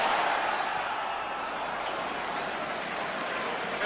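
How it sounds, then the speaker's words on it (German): A football stadium crowd at the 1974/75 Cup Winners' Cup final against Ferencváros applauds, a dense, even wash of clapping and crowd noise held at a constant level throughout. "Hört ihr, wie dankbar die Zuschauer sind, wenn sie wieder ein paar gute Szenen bekommen?"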